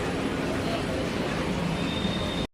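Steady rumble of the Kannur Express, a train made up of LHB coaches, running along the track, broadband and continuous with a faint high whine, then cutting off abruptly at the end.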